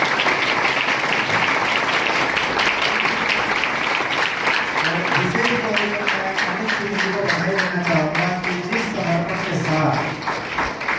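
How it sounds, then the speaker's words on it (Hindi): Loud, steady applause from an audience at a national school for visually impaired students, honoring two computer teachers; dense clapping runs throughout, with a voice speaking over it in the second half. "तो एक बार अपने दोनों कंप्यूटर टीचर्स को जोरदार तालियां बजाएं।"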